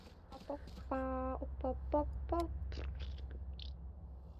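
Bird calls in the Valorant video game, a series of short, clucking, harmonic chirps with one longer call, fairly faint over a low steady hum.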